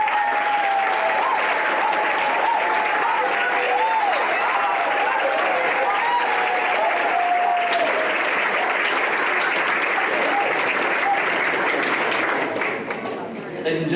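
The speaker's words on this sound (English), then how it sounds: "You deserve a round of applause." Sustained applause from parents and audience at a county board of education meeting, steady dense clapping for the full stretch with some voices and whistles mixed in, fading slightly at the very end.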